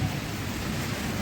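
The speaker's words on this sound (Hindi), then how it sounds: "बारिश का हाल देखिए कितनी शदीद हो रही है।" Heavy rain pours steadily in a dense, constant hiss with no breaks, loud and close throughout the brief moment, with no one talking.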